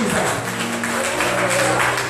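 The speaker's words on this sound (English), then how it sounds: "Clap your hands for Jesus." A church congregation at a lively worship service in Portmore, Jamaica claps hands steadily and loudly in a dense, continuous wash, with singing or music mixed underneath.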